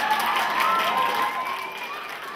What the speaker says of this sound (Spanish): Bravo, un aplauso, por favor.